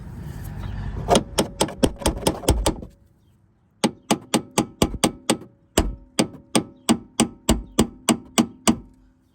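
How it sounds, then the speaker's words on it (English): Hammer blows knocking a stiff rear shock absorber part loose on a Golf R32, a fast run of sharp metallic taps, a short pause, then two more steady bursts of evenly spaced strikes, close and loud. "so you can just tap it off with a hammer."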